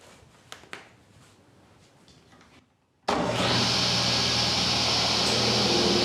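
Dust collection system in a woodworking shop switches on after a quiet moment, then runs as a loud, steady broadband roar with a constant hum to the end.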